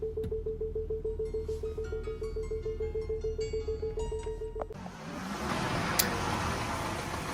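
A BMW Mini with a freshly replaced alternator idles with a steady, rapid ticking pulse, then reverses off a home driveway as a broader rushing engine and road noise takes over, close by and without speech.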